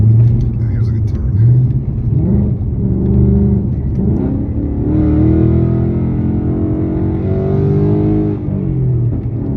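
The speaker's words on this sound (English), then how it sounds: "Hope you guys can enjoy some of that exhaust note." Deep, rumbling V8 exhaust note from a 2025 Ford Mustang GT Premium with Performance Pack, heard from inside the cabin as it pulls through a turn and revs higher, steady and fairly loud throughout, with someone talking over it.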